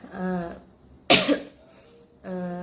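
A single sharp cough sounds close by, followed by a smaller throat noise, between stretches of someone talking.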